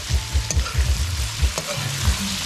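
Seasoning frying and scorching in a hot pan for boiled and fried ground provisions, a close crackling sizzle with quick rhythmic stirring thumps and scrapes throughout a short burst.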